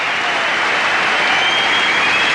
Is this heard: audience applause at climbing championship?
yes